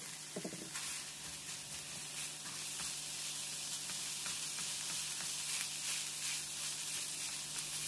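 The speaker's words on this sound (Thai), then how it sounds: "ผัดไปจนกระเทียมส่งกลิ่นหอมก็เติมหมูบดลงไป70กรัมครับ" Minced pork and chopped garlic stir-fried in hot oil in a wok, a continuous close sizzle and hiss with repeated light scrapes of the spatula, steady and fairly quiet throughout, no voices.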